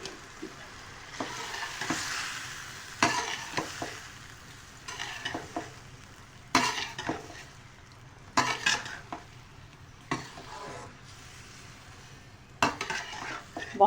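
Spring pasta is stirred into cooked masala in a pan, with soft sizzling under repeated spoon scrapes and clinks against the pan at uneven intervals, fairly quiet with no talking.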